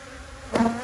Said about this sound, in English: by the looks of it, we still got heaps of bees